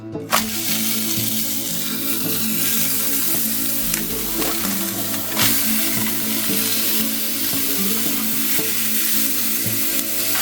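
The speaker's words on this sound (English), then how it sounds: "Now we're going to put down the patties." Thin burger patties for a copycat McDonald's double cheeseburger sizzle loudly in an oiled frying pan, with a steady hiss, occasional sharp pops and a few light clatters and no voices.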